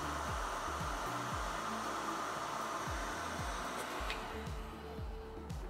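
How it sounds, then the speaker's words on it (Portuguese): A workshop exhaust fan runs during GPU memory desoldering on an RTX 3060 board, a loud, steady rushing hiss of moving air that stays constant throughout, with faint repeated low tones beneath. "vou ligar meu exaustor. Então, pode ser que vocês escutem um pouco de barulho."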